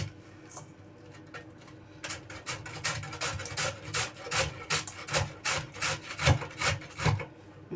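Raw, firm vegetable rubbed against a kitchen grater, starting with a few scattered scrapes and then settling into a steady run of close, rhythmic rasping strokes with no talk.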